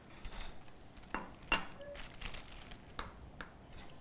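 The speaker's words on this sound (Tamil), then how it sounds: "நல்லா கலந்துக்கோங்க." A spoon stirring milk into mug cake batter in a mug, with light irregular clinks and scrapes close by, quiet and intermittent.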